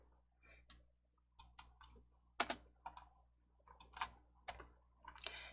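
Quiet bursts of typing on a computer keyboard, entering text in Hangul word-processing software, with separate clusters of key clicks and short pauses between them, close and with no talking.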